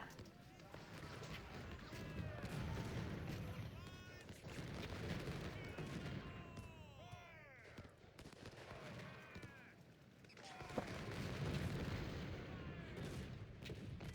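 Cannon and artillery fire in the Civil War battle game Ultimate General: Civil War, a dense, continuous stream of booms and crackling shots layered over battle noise, with a voice speaking over it.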